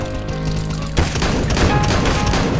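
Automatic gunfire in Counter-Strike: Global Offensive rattles loud and close in a continuous fusillade that starts abruptly and keeps going without pause, with heavy low thumps under each burst.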